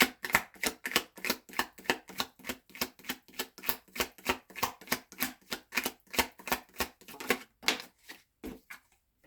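A deck of tarot cards is shuffled and drawn in a steady run of crisp, closely spaced riffling snaps, about three per second, up close and alone for the whole stretch.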